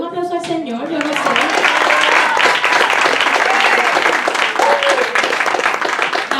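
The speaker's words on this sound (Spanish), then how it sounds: "denle un aplauso al Señor" Loud, dense applause from a church congregation fills the room, rising quickly after a voice trails off at the start and continuing steadily throughout.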